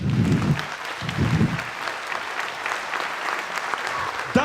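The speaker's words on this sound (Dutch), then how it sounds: "Applaus!" Audience applause fills a cabaret show during a festival week, a dense, steady wash of many hands clapping at close range that runs without a break from start to finish.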